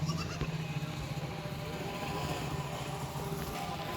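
Goats bleat near a goat pen on Lakshadweep, their calls blending into a steady, dense background of outdoor noise with no clear pauses.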